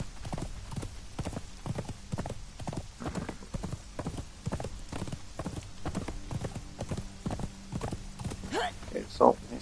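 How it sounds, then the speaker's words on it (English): A horse's hooves clip-clop in a steady, brisk rhythm in the survival game Conan Exiles, loud and close as it trots along, with a short whinny near the end. "Okay, so Mr. Horse over here is quite good when it comes to speed."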